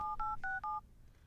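A telephone number dialed on a keypad, three clear touch-tone beeps in quick succession, then quiet.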